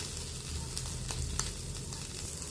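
Shrimp frying in hot oil in a kitchen pan, a steady soft sizzle with a few brighter crackles and pops, fairly close and continuous.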